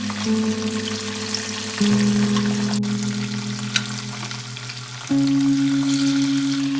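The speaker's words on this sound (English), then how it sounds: "So I'm going to put the fish for fry" Fish shallow-fries in a pan for a Bengali-style mustard fish curry, a steady even sizzle heard beneath sustained droning tones that shift pitch a few times.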